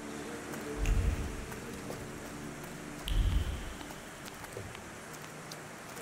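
Rain falls in a garden in a video game as a faint, steady hiss, broken by two low rumbling thuds, with no voices.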